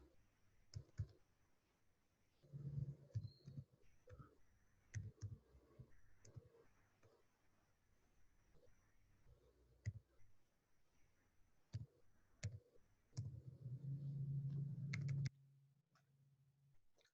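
Keys pressed one by one on a computer keyboard to enter an NPWP tax number, soft irregular clicks spread across the stretch, with intermittent low hum and rumble from nearby activity.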